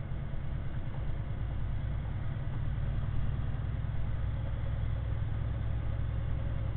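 A Honda CX500 motorcycle engine fitted with a Harley exhaust runs steadily at a low, throbbing idle, close and loud throughout with no voices.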